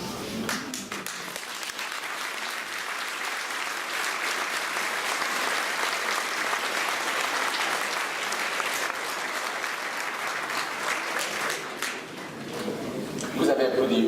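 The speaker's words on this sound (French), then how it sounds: "Vous avez applaudi une phrase trop tôt" Audience applause fills a municipal New Year's address by the mayor of Saint-Sevé, a steady, dense crowd clapping sustained at even loudness for most of the stretch, briefly dipping near the end before swelling again.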